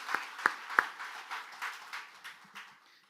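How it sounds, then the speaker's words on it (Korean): Church congregation applause: a few sharp, close claps at the start, then scattered, softer clapping that thins out and fades away. "영광의 박수를 드립니다"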